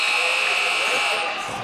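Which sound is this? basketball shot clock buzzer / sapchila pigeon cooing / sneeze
basketball shot clock buzzer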